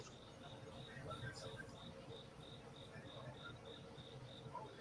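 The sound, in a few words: crickets chirping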